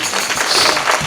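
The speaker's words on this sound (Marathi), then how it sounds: "जोरदार टाळ्या वाजवायच्या त्याच्यासाठी." An audience at a Marathi kirtan claps together, a dense, loud wash of applause throughout the short stretch.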